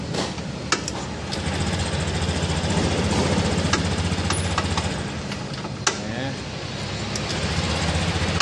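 A Honda Genio scooter engine runs steadily with a continuous low hum and buzz, punctuated by a few short clicks, with no speech.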